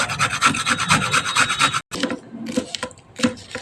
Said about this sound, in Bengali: এখানে গাজর, ক্যাপসিকাম, বরবটিটা ঘষে নেওয়া হচ্ছে।